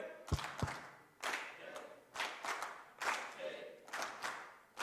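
A conference audience split into groups claps out a rhythm together: sharp clustered bursts of hand claps repeating in a pulsing pattern, with voices calling out between them.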